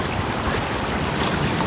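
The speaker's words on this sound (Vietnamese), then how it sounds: "Ghé suối nghe nước chảy ríu ro, thư giãn." Water of a small stream flowing and babbling, a loud, steady rushing wash that carries on without a break and has no voices over it.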